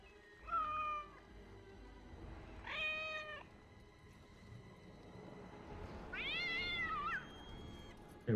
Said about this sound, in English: We'll summon the cat now.